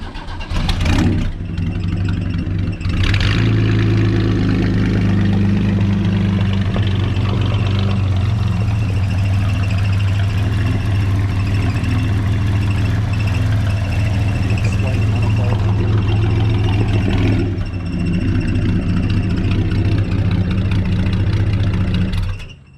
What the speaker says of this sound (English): But the car is running now.